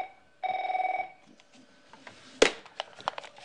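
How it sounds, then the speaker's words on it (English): A personal phone rings with a short electronic tone burst, then softer clicks and handling noises follow as the call is picked up. "That's my personal phone. Let me take it."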